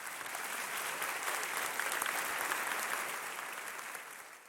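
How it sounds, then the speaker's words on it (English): An audience at a Danville High School veterans salute concert claps warmly in one sustained round of dense, even applause that tapers off slightly at the end. "Please help me thank each of them with your round of applause."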